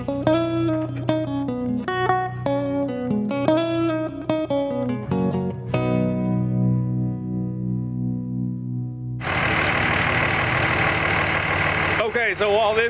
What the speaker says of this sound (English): while this is running, idling so it gets up to temperature so I can burp the coolant system